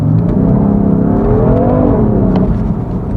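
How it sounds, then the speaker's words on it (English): A BMW F80 M3's turbocharged engine and exhaust rev in sport plus mode with aggressive gear settings, a loud steady droning whir with rising and falling pitch, heard from inside the car without talk. "You definitely hear the sound difference inside the, well, from the exhaust as well."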